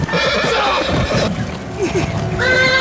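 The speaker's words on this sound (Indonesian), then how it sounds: "berhasil menjinakkan seekor kuda liar dengan kemampuannya yang ia miliki" A wild horse neighs in a kung fu film scene, its loud whinnies rising and falling over a steady background, with a hint of hoofbeats.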